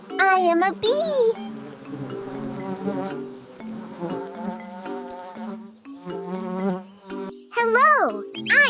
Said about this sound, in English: Hi, I am a bee.